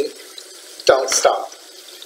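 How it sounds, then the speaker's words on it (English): Cold tap water runs over leeks in a kitchen sink, brief splashing and gushing bursts near the middle, loud and close, with a person speaking briefly over it. "letting the cold water thoroughly wash the leeks"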